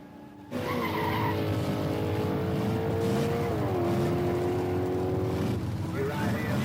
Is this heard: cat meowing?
no